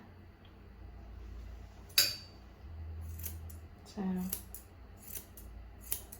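Scissors snip through leather in a few sharp, separate cuts close by, with quiet handling noises between them and a brief spoken word.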